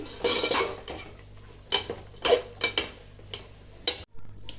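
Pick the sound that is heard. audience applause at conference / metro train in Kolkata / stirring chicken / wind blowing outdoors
stirring chicken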